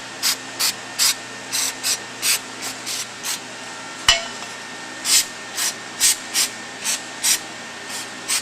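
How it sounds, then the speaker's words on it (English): Brake cleaner sprayed onto friction clutch components from a driveshaft friction clutch, coming as a series of short, sharp hissing bursts in an even rhythm with a brief knock midway, close and moderately loud, with no talking. "in order to clean them, you can take some brake cleaner"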